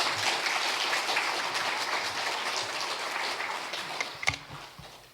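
A church congregation claps steadily for several seconds, dense and sustained, welcoming a pastor, then the clapping thins out and fades near the end.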